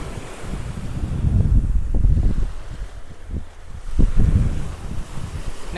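Sea waves washing onto the coast near Rameswaram, low rolling surges that rise and fall under strong wind buffeting the microphone, loud and close.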